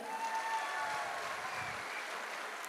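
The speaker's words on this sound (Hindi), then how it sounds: "एक बार ए WPL प्लेटफॉर्म के लिए दिल से ताली होनी चाहिए" Faint, distant clapping from an audience at an AWPL platform event, a soft steady patter with no voices over it.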